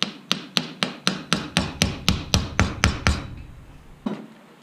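Steady, evenly spaced hammer blows drive a part into a radio-controlled model hydroplane: about a dozen sharp metallic strikes in quick rhythm, close and loud, then a pause and one final tap.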